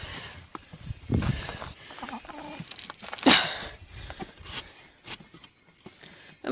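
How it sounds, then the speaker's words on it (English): Chickens cluck and call outdoors in winter snow, with scattered short bursts against crunching movement nearby and brief quiet gaps between. "My crazy chickens will not go."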